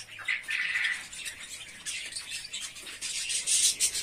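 Young finch chicks chirp softly in quick, high-pitched bursts, several thin calls overlapping and repeating close by against a quiet background.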